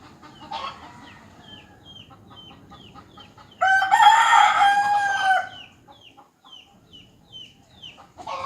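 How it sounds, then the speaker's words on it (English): Wild chickens on Guam: a rooster crows loudly and close for a couple of seconds, with scattered clucks and chirps from other fowl around it in an outdoor yard. "there's some of the Boonie chickens for you guys"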